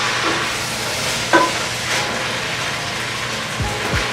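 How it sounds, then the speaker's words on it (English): Callaloo being mixed into sweet mashed potato with tuna, soft wet stirring and squelching strokes in a bowl, close and steady, with one sharper clink of the utensil partway through. "again I'm going to mix this all together"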